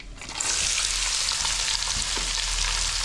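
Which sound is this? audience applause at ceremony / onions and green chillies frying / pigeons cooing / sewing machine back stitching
onions and green chillies frying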